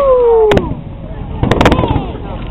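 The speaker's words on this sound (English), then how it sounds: "We're at the 4th of July fireworks." Fourth of July fireworks bursting outdoors, with two booming bursts about a second apart, the second a crackling cluster, over crowd chatter and a falling whistle.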